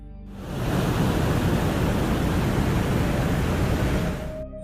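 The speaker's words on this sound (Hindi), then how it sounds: "वैज्ञानिकों के पास स्पेसक्राफ्ट के लैंडिंग साउंड का भी डेटा है" A spacecraft landing on Venus, recorded by the craft itself: a thick, surf-like roar swells up after a brief quiet start, holds loud and even for several seconds, then falls away at the end.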